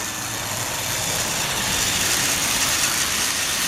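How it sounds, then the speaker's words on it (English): A 2012 Trackmaster Douglas toy train runs on its drive unit, a quiet continuous motor hum with faint rolling noise, steady and unbroken throughout. "the Douglas is running very quietly, which is good"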